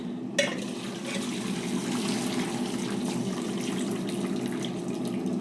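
Cooked potatoes are drained from a pot into a sink, a steady rush of pouring water that runs continuously at close range after a brief clunk at the start, with no talk.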